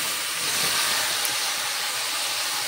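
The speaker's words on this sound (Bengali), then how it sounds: "আমি এবার কচুরলতিগুলো যেগুলো মেখে রেখেছি তেলের মধ্যে দিয়ে দেবো সব একবারে" Taro stolons (kochur loti), mixed with spices by hand, tipped all at once into hot oil, giving a steady, loud broadband sizzle and hiss that holds evenly throughout with no talking.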